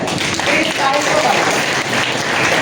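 An audience claps in a steady round of applause at a product introduction event, with voices talking under the clapping.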